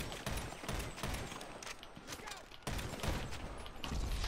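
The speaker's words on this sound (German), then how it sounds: "jetzt haben die mich mit dem Kopfschuss auch noch hingerichtet" Gunfire in the video game GTA 5 ending in a headshot, heard as dense, rapid bursts of shots and clattering impacts running continuously throughout at a loud, close level, mixed with game effects.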